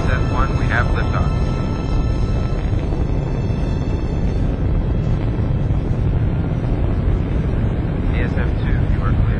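A spaceship, the ASF-1, lifting off in the opening of the Freelancer video game: a loud, continuous roaring rumble that holds steady throughout, with faint higher tones drifting over it.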